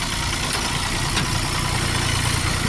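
A Kubota 65 tractor engine idles with a steady, loud, low rumble, uninterrupted for the whole stretch with no voices.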